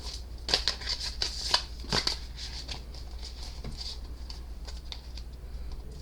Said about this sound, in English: But we are shuffling.